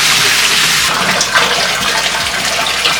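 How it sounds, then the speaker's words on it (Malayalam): Water pours and swirls as it is stirred into soaking arrowroot powder in a container. The rushing, splashing flow is loud and continuous throughout, with no voices. "വെള്ളം എല്ലാം കളഞ്ഞതിന് ശേഷം ഇതുപോലെ വീണ്ടും വെള്ളം ഇതിലേക്ക് തുറന്നു വെച്ചോണ്ട് ഇത് ഇളക്കി ഇത് വീണ്ടും കൊടുത്ത് വീണ്ടും കലക്കി കൊടുക്കും"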